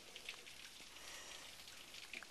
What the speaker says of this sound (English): That was a heck of a downpour.